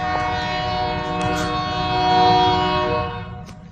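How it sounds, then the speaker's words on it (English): A loud train rolls past with a sustained, steady horn-like drone and rumbling wheels, the noise swelling slightly toward the middle before easing off at the end. "Yeah, train's loud."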